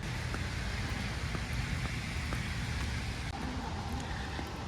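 Steady rain hisses evenly throughout, a dense wash of noise with faint scattered drops and no voices.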